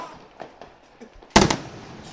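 A large stadium fireworks display, a loud burst landing close and sharp amid scattered fainter pops, with crackling decay trailing off in the open air.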